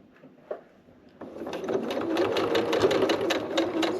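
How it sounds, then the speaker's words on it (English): A sewing machine stitches fabric for a minimalist phone purse, starting with a few light clicks and then running steadily at a close, even, rhythmic whir until the end. "sew forwards, and then I'm going to go ahead and sew all the way back."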